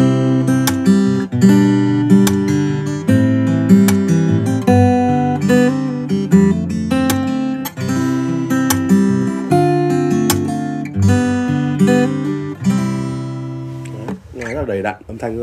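Chords ring out on a Plus D-shape acoustic guitar with full, warm strummed and picked notes. They continue steadily for about fifteen seconds, ending in a wavering bent or slid note, with no voice over them.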